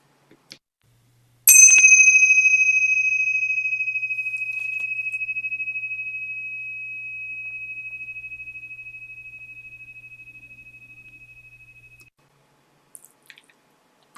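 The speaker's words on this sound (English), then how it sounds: "So I'll ring the bell." A single bell rung once, sharp strike followed by a clear sustained ringing tone that slowly decays over about ten seconds in a quiet room, with a few faint small noises afterward.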